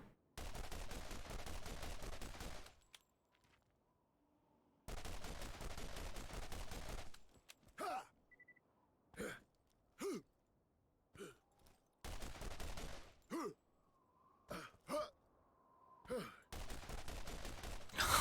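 Pistol gunfire in the Borderlands video game, heard as sharp single shots spaced irregularly between bursts of loud noisy game sound, loud and close, with no talking.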